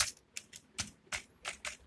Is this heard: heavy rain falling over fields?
no